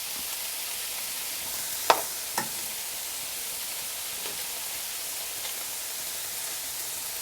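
Pancit noodles with cabbage being stirred in a frying pan: a steady, even sizzling hiss throughout, with a couple of faint clicks of the utensil against the pan near the start.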